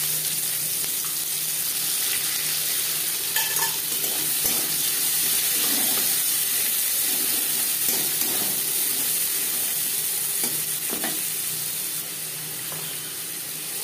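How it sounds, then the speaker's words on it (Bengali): Chopped onions sizzle in the leftover oil from frying chitol fish, a steady, moderately loud hiss and crackle running continuously without a break, easing slightly toward the end. "মাছ ভেজে নেওয়া তেলে দিয়ে দেবো পেঁয়াজ কুচি।"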